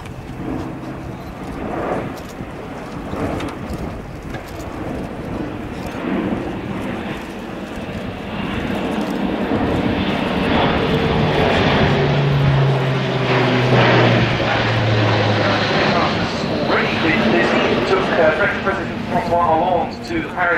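An Airbus A400M military airlifter, a four-engine propeller transport, flies past with a steady, loud broadband engine drone that swells over about twenty seconds. Indistinct voices sit faintly beneath it.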